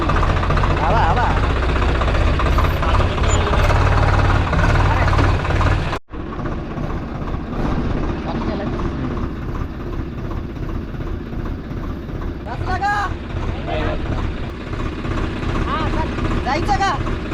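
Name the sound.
tractor engine driving through mud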